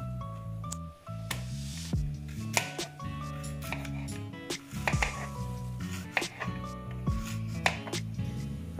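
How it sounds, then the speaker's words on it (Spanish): A knife chopping green plantains into chunks for tostones on a kitchen board: a series of sharp, close cuts in an uneven rhythm, heard over steady background music. "vamos a ir cortando los plátanos en trocitos"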